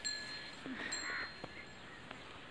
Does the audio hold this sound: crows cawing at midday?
yes